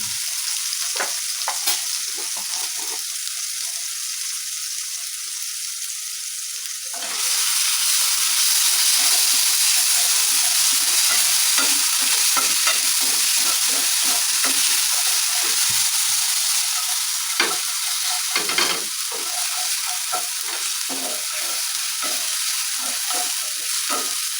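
Egg ghotala cooks in a pan with green chutney paste, a loud, continuous sizzle and hiss that jumps sharply in volume partway through, broken by scattered scraping stirs and no talk.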